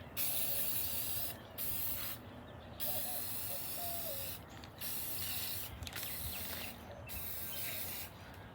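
Spray paint hisses out in repeated bursts, each lasting a second or so, separated by brief pauses, close by.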